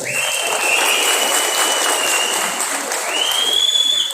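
A crowd at a political rally applauds loudly and continuously, with shrill whistles rising above the dense clapping and no clear speech.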